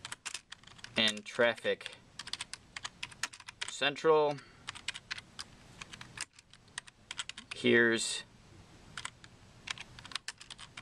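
Rapid one-handed computer keyboard typing clicks away in bursts nearby, broken by short stretches of a person talking.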